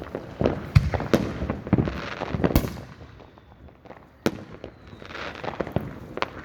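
Fireworks burst repeatedly at an outdoor airshow display, sharp cracks and booms at irregular intervals, some loud and close, others more distant, with a crackling wash between them.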